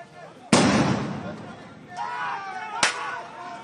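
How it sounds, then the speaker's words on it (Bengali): Police fire tear gas shells at protesters during street clashes in Kestopur, Salt Lake: a sharp loud bang, a second crack a couple of seconds later, with voices shouting in between. "আবার কাঁদানে গ্যাসের শেল ছুড়ল পুলিশ"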